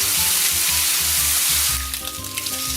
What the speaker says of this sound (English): Just cook it as you normally would bacon, just for about 5 minutes, turning every now and then.